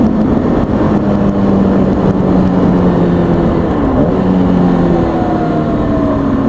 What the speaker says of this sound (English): And downshifting. Points of contact, little throttle blip.